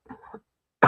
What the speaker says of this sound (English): okay, I'm already coughing.